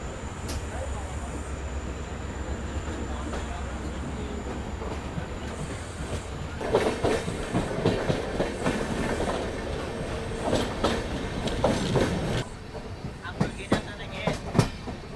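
A diesel-hauled passenger train pulls out of Madgaon railway station, its rumble building into steady clickety-clack of wheels over rail joints with occasional squeals, fairly close, with some talk mixed in.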